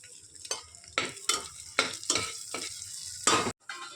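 Garlic sizzles in melted butter in a pan, close and bright, with about eight sweeping stir strokes breaking up the steady frying hiss.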